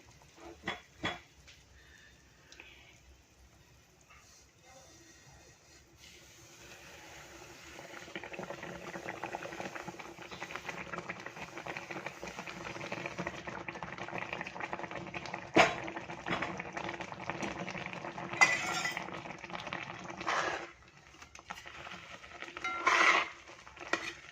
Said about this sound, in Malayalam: വെള്ളം നന്നായിട്ട് വെട്ടി തിളച്ച്